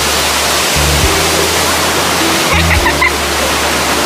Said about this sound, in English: we are right in front of the waterfall